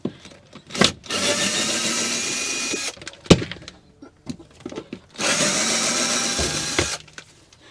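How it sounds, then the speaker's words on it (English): Cordless drill backing screws out of a van interior: two long, loud whirring bursts of several seconds each, separated by clanks, rattles and small handling knocks, with no talk. "Gotta love cordless drills."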